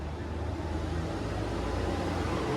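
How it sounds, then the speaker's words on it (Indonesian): A steady, loud roar of heavy truck traffic, with engines rumbling continuously and no break. "Ini berisik sekali nih, banyak truk."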